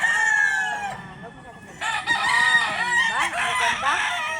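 Roosters crow repeatedly among a flock of gamefowl, several overlapping cock-a-doodle-doo calls near and loud, with clucking between, no talk.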